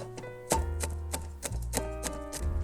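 A knife slicing through a rolled log of bacon-wrapped mushrooms on a board, a run of quiet, irregular thuds and taps close by.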